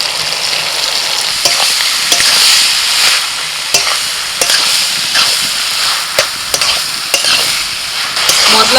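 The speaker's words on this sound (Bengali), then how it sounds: "মশলার সাথে কপিটাকে আমি মিনিট 3-4 ধরে কষিয়ে নিয়েছি" Boiled cabbage sizzles in hot oil with spices in a pan, the frying hiss steady and close while a spatula scrapes and stirs in regular strokes.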